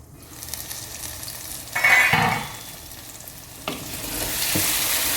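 Capsicum and chicken sizzling in a pan over lowered heat with a few bursts of stirring and scraping, close and fairly loud against a constant frying hiss.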